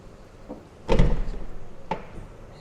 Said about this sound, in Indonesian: pintu bagasi vakum nih